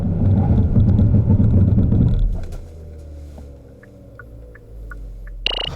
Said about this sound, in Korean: 그럼 이번에는 소울 부스터의 제동 성능에 대해서도 한번 알아볼까요?